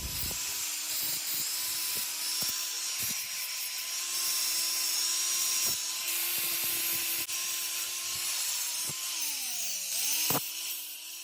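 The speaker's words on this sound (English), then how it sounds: "I'm going to take the grinder and just clean up all these edges." An angle grinder hums steadily at close range as it cleans up the edges of welded steel for a garden arbor, a continuous high whine with small pitch dips and faint scraping ticks, then briefly winding down near the end.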